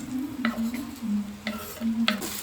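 Chopped onion and two small tomatoes sizzle and fry in a pan while a spoon stirs them, leaving a steady frying hiss broken by a few sharp scraping strokes, close and alone.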